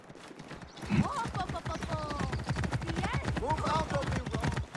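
In Assassin's Creed Origins, a horse gallops past with rapid, steady hoofbeats that stay close and loud throughout, while a person talks over them.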